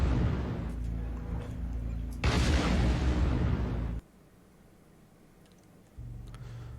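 A single large Thunderbolt missile fires in the MechWarrior Online video game: a sudden loud, broadband blast and rushing roar lasting under two seconds over rumbling ambience, then a sharp drop to quiet before a low hum returns.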